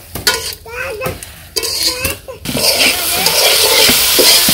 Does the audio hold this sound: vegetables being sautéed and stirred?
yes